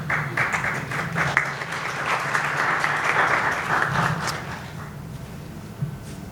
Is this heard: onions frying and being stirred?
no